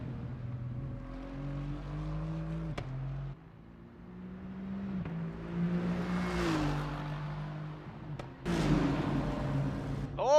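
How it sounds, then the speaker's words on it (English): A GT3 race car in a racing video game revs steadily, its engine note rising and falling through gear changes, close and loud with a brief dip before climbing again, no voices over it. "Love the sound of this car."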